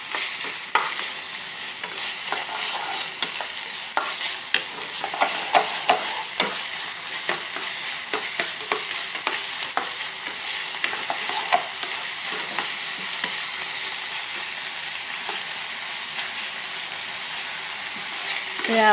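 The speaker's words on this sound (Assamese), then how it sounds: "পিঁয়াজখিনি অলপ ভজালৈকে, ৰঙচুৱা হোৱালৈকে ভাজিব লাগিব।" Onions frying in a pan for a homemade egg roll, a steady close sizzle with frequent clicks and scrapes of stirring throughout, no talking.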